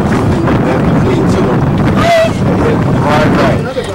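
A boat motor rumbles past amid heavy wind buffeting on the microphone, loud and close, with brief voices mixed in.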